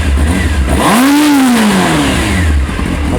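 A Honda motorcycle engine revs hard once, its pitch sweeping up and falling back, over a loud, close idle rumble that continues before and after the blip.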